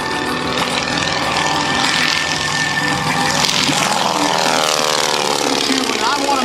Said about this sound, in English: repositioning the aircraft to fly from south to north